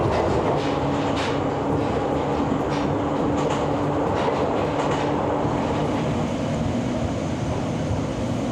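Train on the Ohmi Railway line in rural Japan, a steady loud rumble of the carriage throughout with clattering wheels and occasional higher squeals, no voices.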